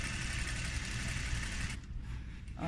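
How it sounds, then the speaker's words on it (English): A sewing machine stitches down a zipper with a steady motor whir that runs close and even, then cuts out about two-thirds of the way through, leaving quiet handling noise. "now you're just going to stitch all the way down"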